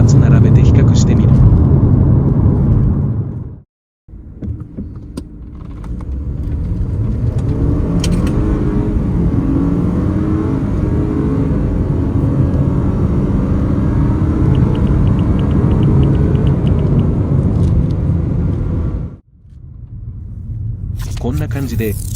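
BMW 320i F30 fitted with a JB4 piggyback tuner under full acceleration from a standstill, loud engine rumble climbing through the gears, with brief pauses at shifts and a short silence near the start.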